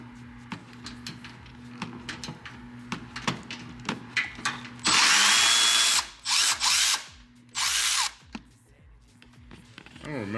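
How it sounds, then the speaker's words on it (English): A hand ratchet loosens a tight bolt on an 8th-gen Honda Civic Si, first with a rapid train of close clicks, then with several loud bursts of buzzing ratcheting. Faint speech is heard in the background. "The battery on this damn ratchet is actually dead. So I'm freehanding it right now. Well, I'm loosening it."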